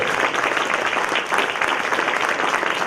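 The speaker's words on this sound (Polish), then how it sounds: "Gorące brawa." A theatre audience at a premiere at Teatr Witkacego gives warm, sustained applause, a dense, even rush of many hands clapping close together with no pauses.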